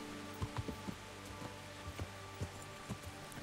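Steady in-game rain in Kingdom Come: Deliverance patters on a surface with scattered, sharper drops tapping at irregular intervals.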